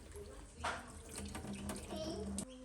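Fresh mint leaves being rinsed in a kitchen sink under a running tap, a steady splashing water stream continuing throughout with a few brief clinks, fairly close, with no talking.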